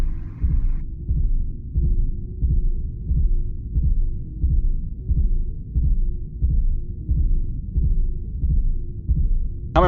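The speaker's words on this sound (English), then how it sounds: "The heartbeat noise is getting a little bit annoying" A looping heartbeat effect from the game Perpetual Mind: Rogue thumps in a steady, low double-beat rhythm, loud and unbroken for about ten seconds with no speech.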